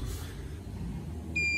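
A short, clear electronic beep sounds at the end from a computer-controlled mill cutting a keyway in bright bar, following a low machine hum.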